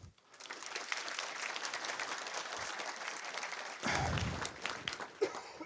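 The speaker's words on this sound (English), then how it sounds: "Let's actually give them a quick round of applause." A conference audience at DevOps Days Kiev 2018 breaks into steady, sustained applause for the hosts and organizers, with a brief lull before a louder swell of clapping near the end.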